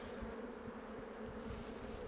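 Honeybees hum steadily around a brood frame crowded with drones, a low, dense, continuous buzz that is fairly faint and close, without voices.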